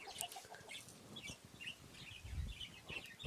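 Lovebirds (budgies) kept in a breeding cage chirp in short, high, scattered tweets. The calls are faint and somewhat distant, with no talking.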